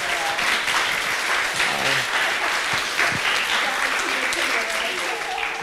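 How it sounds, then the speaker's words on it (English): Applause from an audience at a panel discussion on UX and AI, a dense, steady wash of clapping that stays loud and close for the whole stretch, with a faint murmur of voices mixed underneath. "this is time to give a round of applause to the panel"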